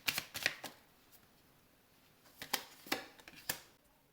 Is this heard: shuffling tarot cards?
yes